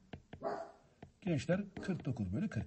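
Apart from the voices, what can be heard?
dog barking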